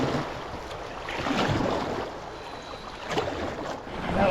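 Canoe being paddled down the Big Fork River, with broadband water wash and splashing swelling and fading in rough surges, plus a breezy hiss, steady and fairly close without talk.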